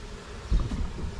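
Honeybees buzz in a low, close hum during removal from a children's playhouse, swelling slightly partway through, ending with a brief rustle.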